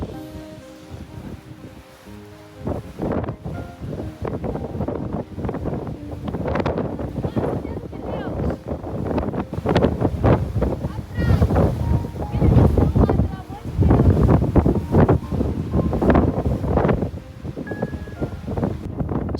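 Strong gusty wind roars and buffets the microphone near a mountain summit, swelling and easing in repeated loud bursts for the whole stretch with no talk.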